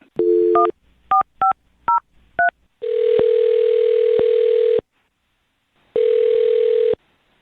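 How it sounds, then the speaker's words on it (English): Touch-tone beeps sound out a number in quick separate presses, then a steady telephone tone drones, pauses, and returns, loud and close. "I'm going to dial his phone number right now"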